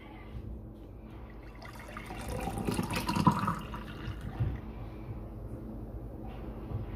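Freshly made juice pours into a container in a soft, steady liquid stream that swells for a few seconds and fades, quiet and close with no talk.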